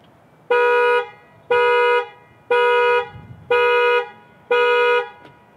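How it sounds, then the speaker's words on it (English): A 2019 Volvo XC40's horn honks five times from the panic button in a steady, evenly spaced rhythm, each blast loud, close and about half a second long. "Just beeps the horn. Now it's got a really strong horn."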